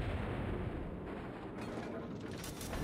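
Cleveland cruiser's turret guns firing in World of Warships, a dense rolling boom of naval cannon fire with a sharper burst of shots after the first half, continuous and loud with no talk.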